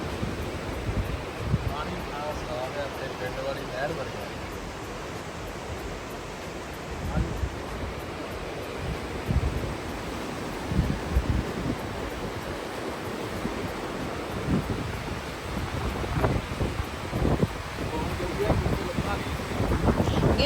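A continuous rushing roar of a waterfall at Wengen, Switzerland fills the scene, steady and broad, with gusty wind buffeting the microphone.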